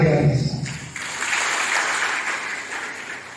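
Applause from an audience at a coaching lecture, a broad steady clatter of many clapping hands that follows a brief voice at the start and then holds evenly before slowly thinning.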